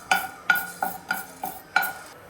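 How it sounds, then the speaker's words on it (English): Fenugreek seeds dropped into a little hot oil in a kadai give six sharp, evenly spaced clinks and crackles, close and clear, each fading quickly. "Now the kadai is hot. Add fenugreek seeds."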